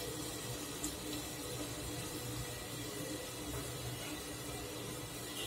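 Water poured into a pan of cooking tomatoes with ginger and garlic, a steady soft hiss of liquid running continuously without a break, fairly faint, with no voices.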